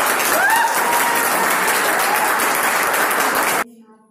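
A large crowd applauds loudly at a business seminar, dense sustained clapping with some voices mixed in, cutting off abruptly near the end.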